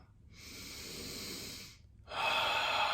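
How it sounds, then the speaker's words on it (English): Two deep breaths drawn and released through the nose during a seated breathing exercise, each a steady airy rush, the second louder and closer than the first, with no voices. "Inhale, exhale."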